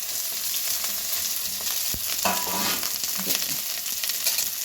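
Onions frying in a pot for sweet corn vegetable rice, a constant near sizzle with a few stirring clinks and scrapes, no one speaking.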